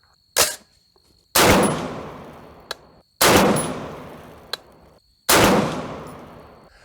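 Four loud, sharp rifle shots from a 6.5 Creedmoor AR10 firing handloaded rounds at an outdoor range, each crack trailing into a long decaying echo, spaced about a second or two apart, with faint metallic clicks between shots.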